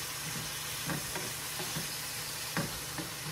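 Shrimp sizzle softly in a skillet over a continuous frying hiss, punctuated by a few stirring clicks and scrapes, with no speech.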